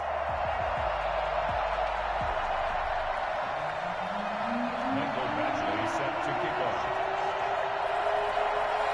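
A stadium crowd roaring and cheering in an EA Sports football video game before a Chicago Bears versus Arizona Cardinals matchup, a steady loud wash of crowd noise under continuous announcer commentary.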